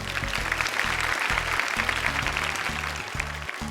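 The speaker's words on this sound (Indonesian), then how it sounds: "Boleh tepuk tangan dong untuk semuanya nih." An audience in an Indonesian Quran memorization show studio claps steadily, a dense continuous applause with rhythmic beat-like pulses underneath.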